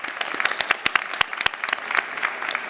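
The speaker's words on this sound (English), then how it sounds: "a round of applause for our panelists" An audience applauds panelists at a COP25 climate event, a close, dense burst of many hands clapping with sharp individual claps standing out, steady for a few seconds.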